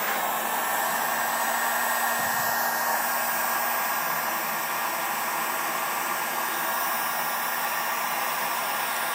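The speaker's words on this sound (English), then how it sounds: "Just speed up the drying process here and make sure it gets dry up in them holes with this gun." A heat gun blows steadily to dry out holes in a rusty truck body, a loud, constant hissing roar of rushing air close by, unbroken throughout.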